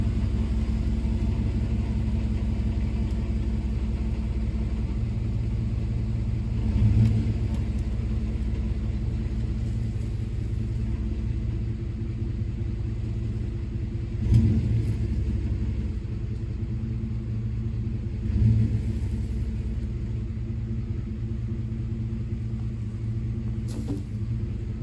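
Low, steady rumble of a truck engine idling and straining while it drags a foundation beam, droning continuously for the whole stretch with a few brief louder thumps and no voices.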